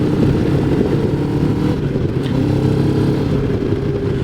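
A CFMOTO 700 MT mid-size adventure motorcycle, restricted in power, drones loudly and steadily at cruising speed through winding roads, its engine rumble mixed with wind noise and no talk.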